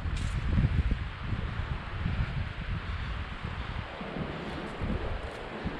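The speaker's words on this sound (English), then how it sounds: "It's getting a little windy." Steady wind buffeting the microphone, a continuous low rumbling roar with gusts swelling and easing, loud throughout with no other sounds standing out.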